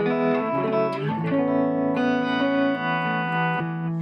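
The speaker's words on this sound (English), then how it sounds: "So right now I'm in the tremolo channel. Tremolo is active." Sustained electric guitar chords through a Supro 24 clone amp on its tremolo channel at fairly low volume, pulsing tremolo wobble, moderately loud and alone, with fresh strums ringing out every second or two.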